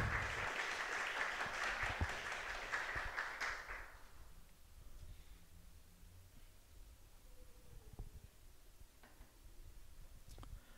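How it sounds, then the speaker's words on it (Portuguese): A church congregation applauds a pastor during a celebration service, dense clapping for about four seconds that then drops away into a quiet room with faint rustles and small knocks. "esteja aplaudindo agora a vida da pastora Leida"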